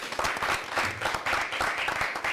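An audience applauds for a mother at a televised talk-show event, a dense, steady patter of many hands clapping close by for a couple of seconds.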